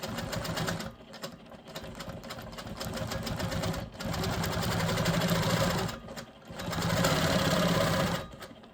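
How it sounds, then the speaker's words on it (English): A QMP 20 sewing machine stitches a clamshell quilting pattern on a fabric panel for a custom bag, its steady loud mechanical whir running continuously, briefly pausing near two, four and six seconds before resuming. "I'm gonna be just quilting clamshells"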